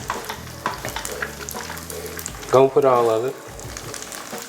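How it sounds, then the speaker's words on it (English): Spaghetti goes into a hot pan and is stirred, producing a strong steady sizzle with stirring scrapes while a person speaks briefly over it. "Now we're going to start adding our spaghetti."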